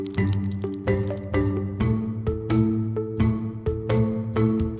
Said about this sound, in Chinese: 加糖、水搅拌均匀。